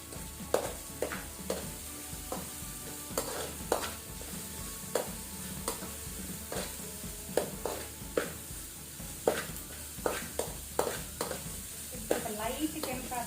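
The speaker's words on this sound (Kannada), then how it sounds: "ಗ್ರೀನ್ ಚಿಲ್ಲಿ, ಇದನ್ನು ಸ್ವಲ್ಪ ಫ್ರೈ ಮಾಡುವ ಮೀಡಿಯಂ ಫ್ಲೇಮಲ್ಲಿ" Green chilli, garlic and ginger fry on a medium flame for chilli garlic prawns, giving a soft continuous sizzle under frequent spatula clicks and scrapes against the pan, fairly quiet and without speech.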